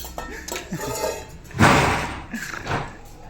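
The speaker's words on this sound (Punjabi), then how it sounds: "ਦੇਖ ਭਾਂਡੇ ਭੁੰਡੇ ਸਾਰੇ ਆ ਪਿਆ ਕੱਢੇ ਸਾਰੇ" Pots, pans and dishes clatter as they are taken out ahead of the Maghi fair, with clanks and knocks in uneven bursts and the loudest crash near the middle, close by amid light background noise.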